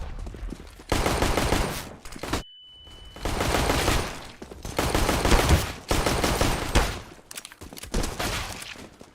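Pistol-round gunfire in a Counter-Strike match, repeated bursts of rapid shots in blocks with brief gaps between them, loud and close.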